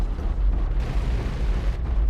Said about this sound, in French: Donc là, je vais utiliser carrément le gros canon